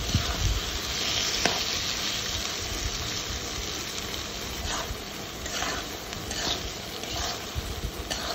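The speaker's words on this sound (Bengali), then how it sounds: "তো আমি 3-4 মিনিটের মতো আমি সমস্ত কিছু কষিয়ে নিব।" Curry ingredients sautéing in a pan, a soft continuous sizzle with occasional light scraping from stirring, close and fairly quiet.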